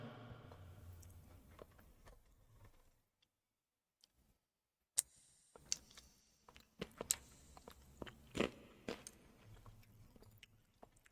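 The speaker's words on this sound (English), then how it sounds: "Sorry if I'm chewing in your faces, guys, by the way." Someone chewing food close to a microphone, a string of small wet clicks and crunches after a brief quiet gap, with faint background sound beforehand.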